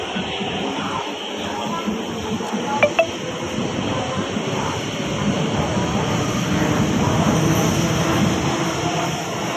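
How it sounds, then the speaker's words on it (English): A Hong Kong MTR subway train rumbles and hisses as it pulls away from the station, a steady broadband roar building gradually with a faint high whine and brief clicks. "please stand behind the yellow line as the train is about to leave."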